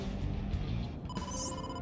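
Phone ringing for an incoming call in the game AI: The Somnium Files, a short electronic ringtone starting midway and sustained with a rising chime, over a low background hum.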